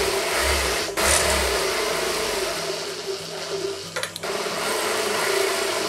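A sewing machine runs continuously while stitching the shoulder seam of a collar-neck chudidhar, giving a steady mechanical whir close by with small changes in pace and no speech.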